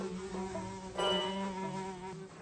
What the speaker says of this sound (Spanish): Oh, estas molestas moscas se atraviesan en todo.